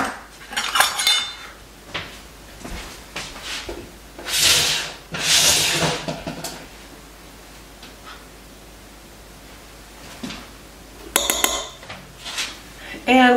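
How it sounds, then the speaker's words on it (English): Lemon bar batter with added flour being mixed in a bowl: irregular scraping and rubbing bursts of a utensil against the bowl, some clinks, with pauses between strokes, close by. "And we're going to mix this all up now until it's blended up."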